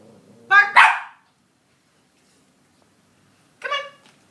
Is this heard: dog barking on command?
yes